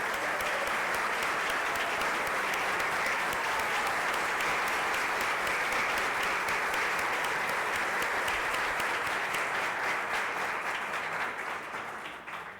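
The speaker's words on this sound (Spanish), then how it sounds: "Un aplauso, por favor," A university lecture audience gives a long round of applause to welcome the lecturer, a dense, sustained wash of many hands clapping that holds for about twelve seconds before beginning to thin out, with no talk over it.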